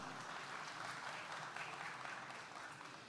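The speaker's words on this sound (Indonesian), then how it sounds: "Tepuk tangan untuk Desak Anies" Crowd at the Desak Anies event applauding, a faint, distant wash of continuous clapping holding steady for a few seconds before easing slightly.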